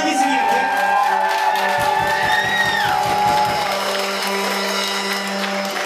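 A live audience applauds and cheers for a singer being introduced, with a dense crowd wash and shouts mixed with ongoing music tones and voices.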